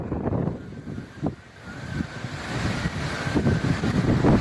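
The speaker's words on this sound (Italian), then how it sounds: "Il vento, gli alberi che cadono a terra." Strong gusting wind during a July storm on the Riviera, a broad continuous roar with rising and falling surges, close and loud, with no voices.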